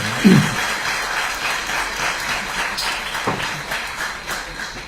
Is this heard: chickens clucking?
no